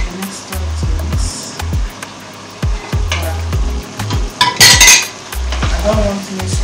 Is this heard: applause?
no